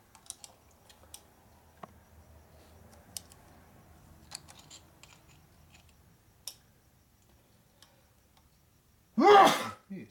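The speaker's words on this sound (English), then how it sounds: "man, I gotta sneeze." A single sharp sneeze bursts out near the end, loud and close, during a quiet workshop rebuild of a 1961 Harley-Davidson FL 74ci panhead engine, following soft clicks and taps of tools on metal parts.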